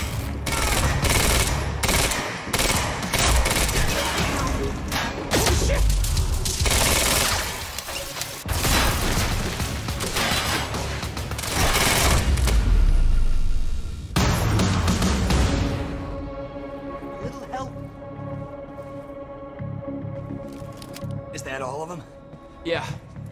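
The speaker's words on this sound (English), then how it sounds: "Why are they still shooting?" Rapid automatic gunfire and bursts of shooting in the video game Quantum Break, loud and dense for most of the stretch, thinning toward the end as voices talk over the action.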